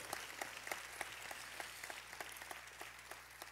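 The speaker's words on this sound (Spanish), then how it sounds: "démosle palmas fuertes a nuestro Señor" A church congregation clapping hands in praise, a dense patter of applause with sharper individual claps, heard at a modest distance.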